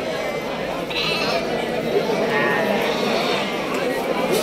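Bandur cross lambs bleat at a sheep market in Mandya, loud and close amid constant crowd chatter, with someone talking over the din.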